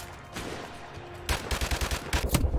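Shotgun fire in Call of Duty 4: Modern Warfare's campaign, starting with a quieter stretch and then breaking into a loud, fast run of repeated blasts with ringing tails, close and dominant.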